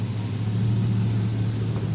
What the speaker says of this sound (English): Got my boy's truck pulling in now